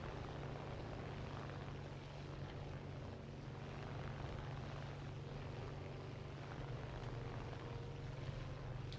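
Steady propeller-plane engine drone in War Thunder, a fighter-bomber carrying a 50 kg bomb, a constant low hum holding level with no break and no voices.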